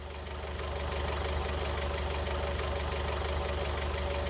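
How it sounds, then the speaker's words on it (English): A front loader tractor engine in the Farming Simulator 19 video game runs steadily at idle, a loud, continuous low rumble with an even mechanical knock and no pauses or talk. "I'm driving the front loader, but it's like doing some crazy stuff"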